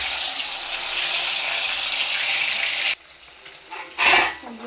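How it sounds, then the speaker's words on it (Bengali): Pieces of fish sizzling in hot oil in a home kitchen, a loud, steady frying hiss that stops abruptly, followed by a few softer clinks and another brief burst of sizzle. "তো চলো এবার আমি তেলের উপরে একটা একটা করে মাছগুলো ছেড়ে দিচ্ছি।"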